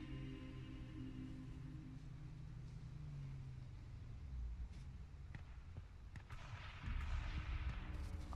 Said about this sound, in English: The truck's coming for me.